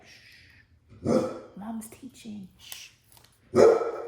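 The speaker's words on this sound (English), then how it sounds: "that's my dog." A huge old dog barks in two loud, close bursts indoors, with a person softly talking and hushing between them.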